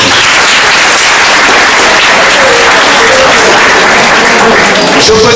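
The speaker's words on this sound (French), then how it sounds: "il mérite des applaudissements" Audience applause at an information and sharing meeting, loud, dense and continuous clapping from a large crowd that fills the whole stretch without letting up.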